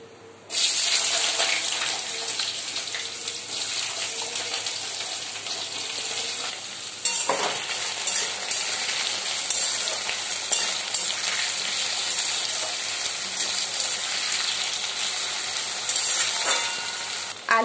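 Vegetables and potato frying in a pan with panch phoron and dried red chili, a loud, steady close sizzle that starts abruptly, with a brief stirring stir-up partway through.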